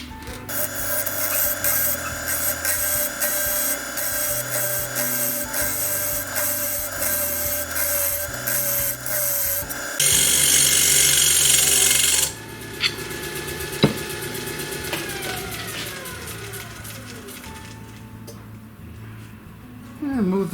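An intermediate spindle gouge cuts into a blackwood bowl blank spinning on a wood lathe, producing a continuous loud rasping, scraping whir that changes tone midway, then fades into quieter tool taps and a settling hum.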